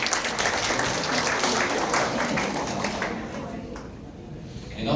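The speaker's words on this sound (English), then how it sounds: "please give yourself a round of applause for coming here today" Crowd applause at a morning gathering in Manila, steady dense clapping that thins out toward the end, with a voice speaking over it.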